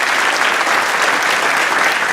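Studio audience applause during a Love Is Blind UK reunion taping, a dense, steady wash of clapping from a large crowd that holds at full strength without pause.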